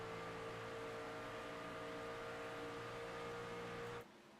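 A race truck engine in a racing video game at Chicagoland holds a steady, loud drone at high throttle, then abruptly cuts off near the end.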